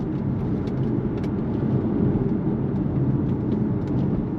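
Steady low road and engine rumble from a Jaguar XE 20T 2-litre automatic saloon driving through a large roundabout, heard from inside the cabin at an even, continuous level with no talking.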